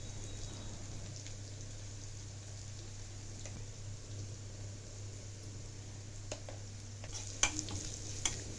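Curry leaves and spices frying in a pan, a quiet continuous sizzle with a low steady hum underneath and scattered crackles that grow sharper near the end.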